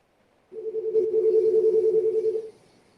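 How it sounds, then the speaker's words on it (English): A phone rings during an indoor business meetup: one steady, loud electronic ring tone lasting about two seconds, then cutting off, with no talking over it. "Oh, somebody's phone's ringing."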